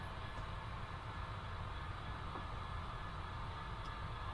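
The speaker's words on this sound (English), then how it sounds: "there is a train on the main line coming in our direction" A steady low rumble of an HO scale model train running on the main line tracks, continuous and fairly distant, with no talking.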